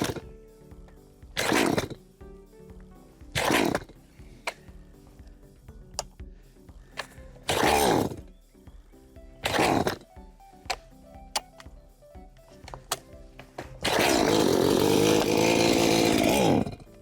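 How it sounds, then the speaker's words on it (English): Repeated pull-cord yanks on a chainsaw left sitting in a garage all winter, sharp bursts every couple of seconds, until the engine catches and roars steadily at the end. "Let's see if it starts right up for me."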